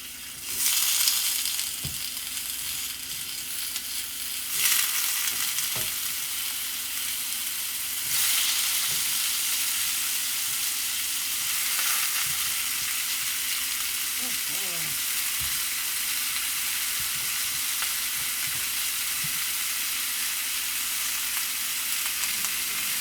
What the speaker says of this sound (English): I want to get a good sear on my potatoes